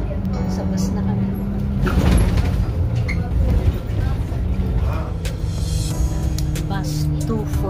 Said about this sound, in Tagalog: Sa bus na kami.